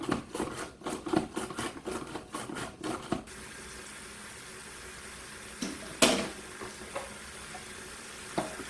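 Pot roast with onions sears in an Instant Pot, giving a crackling sizzle that alternates with bursts of stirring and scraping early on. A steady low frying hiss follows, marked by an occasional sharp clatter.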